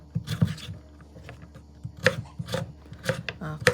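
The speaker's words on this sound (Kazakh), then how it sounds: "асқабағымызды осында экранда көрсетілгендей етіп кубиктап турап аламыз" A knife chops pumpkin into cubes for a meatless samsa filling, striking the board close up in uneven, crisp bursts of several quick cuts with short pauses between them.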